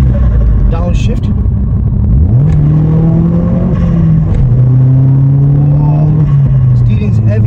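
A Vauxhall Astra VXR, tuned to stage 2 at around 320 bhp, accelerates in sport mode with a loud, close engine drone rising through the revs, dipping at a gear change and climbing again, with speech over the top.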